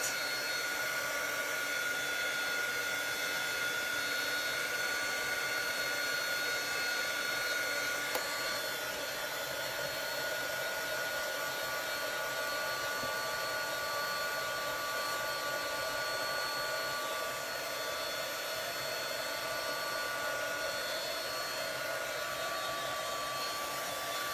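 A handheld heat tool blows over a club transfer on a beach bag, making a steady, unbroken whirring drone that stays even and close throughout with no talk.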